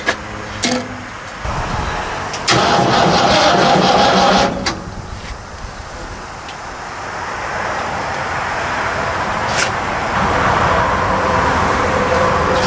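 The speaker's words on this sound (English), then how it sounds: "Engine cranking speed's not where it needs to be." An AMC V8 engine on a hot rod wood chipper cranks slowly and turns over, then catches and settles into a steady running rumble close by, with a brief mechanical whir near the start.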